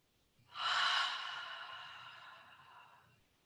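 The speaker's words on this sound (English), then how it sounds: "One more Ujjayi breath." Ujjayi yoga breath during a guided class: one long, audible throat-constricted breath with an ocean-like rasp that swells quickly and fades slowly over about three seconds, close and alone.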